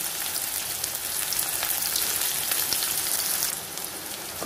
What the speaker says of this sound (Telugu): ఈ ఉల్లిపాయలు మనం వేయించుకోవాలి